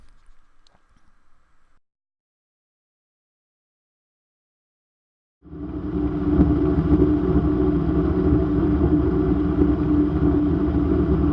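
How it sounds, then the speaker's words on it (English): The Raptor prototype aircraft engine running at a raised idle with a new fuel pump installed, a steady close rumbling drone that begins abruptly after some quiet and holds constant, no talking. "the first thing I noticed was there was a lot more fuel being delivered to the engine because the idle was much higher"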